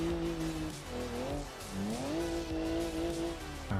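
A car engine in a racing video game revs hard and continuously, its pitch climbing, dipping and swooping as the throttle is pushed, loud and unbroken with no voices over it.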